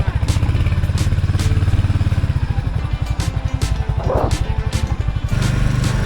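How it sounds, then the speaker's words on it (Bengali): A motorcycle on a rainy hill road near Kurseong slows and pulls over to the side, its engine chugging in a loud, rapid, steady putter close by, with a brief clatter near the end. "ঠিক আছে সাইড করতেছি বাইক"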